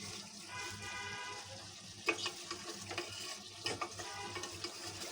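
Beef sautéing and being stirred in a pan for a Bengali-style beef dish, with a steady low sizzle and a few sharper scraping clinks of the spoon, close and moderately quiet, no talking.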